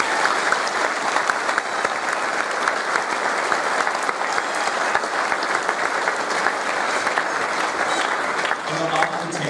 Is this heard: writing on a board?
no